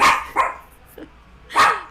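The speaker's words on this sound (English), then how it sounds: "Demon dog." A demon dog in a video game barks loudly several times, with sharp separated yelps and a short whimpering sound between them, close and clear with no talking.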